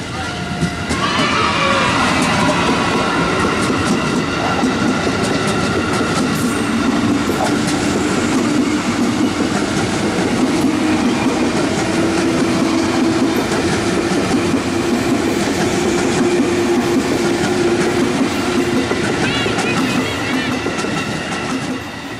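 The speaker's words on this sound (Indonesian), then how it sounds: "KRL-nya diberangkatkan." A KRL electric commuter train in Indonesia rolls out close by, a loud steady rumble with rhythmic clacking wheels and faint metallic squeals over about twenty seconds.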